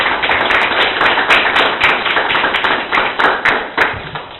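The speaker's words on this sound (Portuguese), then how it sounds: "Palmas para o Senhor Jesus" Church congregation clapping in rhythm for Jesus, steady loud hand claps close by and filling the whole stretch with no talk over them.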